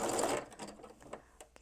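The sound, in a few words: sewing machine running a back tack on freestanding lace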